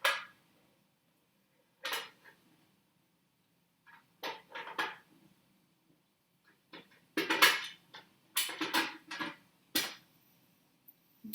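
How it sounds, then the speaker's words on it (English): A metal lid is set onto a pressure canner for green beans, giving a series of separate metallic clanks and scrapes with quiet gaps between them, close by and fairly sharp, with no talking. "Alright, so now I'm going to put the lid on"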